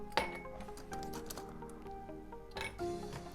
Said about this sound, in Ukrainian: Набираємо для того, щоб охолодити нашу склянку повний келих льоду